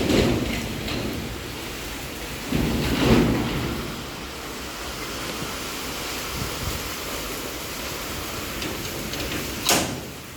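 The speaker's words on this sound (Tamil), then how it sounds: "அப்படி மழை பெய்யறதுலையுமே வந்து பார்த்திங்கன்னா அந்த ஒரு வீடியோ கிளிப்பிங் வந்து ஆட் பண்ணுறேன்" Heavy rain pours steadily during the Chennai flood, with low rolls of thunder swelling at the start and again a few seconds in, and a sharp crack near the end; no one speaks.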